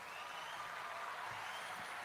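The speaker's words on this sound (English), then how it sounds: "Give him a round of applause" A live show audience applauds a returning guest, a smooth, steady roar of many hands clapping at a distance, with no gaps.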